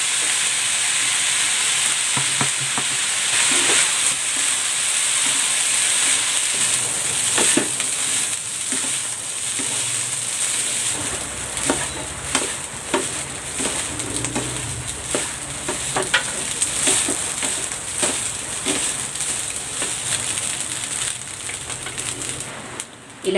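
Rice stir-fries with soy sauce and oyster sauce for Chinese sausage fried rice, a constant loud sizzle broken by repeated scraping and clacks of a spatula against the pan, no talk.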